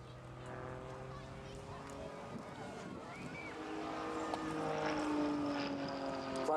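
RAF Grob Tutor propeller aircraft pulling up into a hammerhead during an air festival display, its engine drone rising and shifting in pitch as it climbs, with crowd noise and talk underneath.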